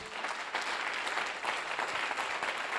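Congregation applauding during a church service, a dense, continuous wash of clapping from many people, fairly loud and even, with no speech over it.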